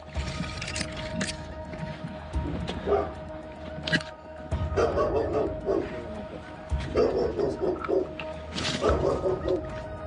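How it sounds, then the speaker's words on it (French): A tethered dog barks repeatedly in yips and bursts outdoors in a garden, mixed with whimpers, under ongoing speech. "Heureusement, le chien est attaché."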